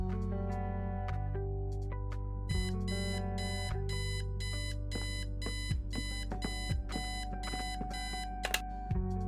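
An alarm clock in the Kathy Rain: Director's Cut video game rings in a repeated beeping pattern over soft game music, quiet and steady.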